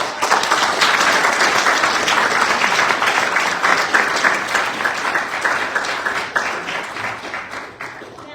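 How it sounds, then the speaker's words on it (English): Audience at a student entrepreneurship pitch competition gives a big round of applause, loud dense clapping that holds for several seconds and then gradually tapers off. "can we give one more big round of applause?"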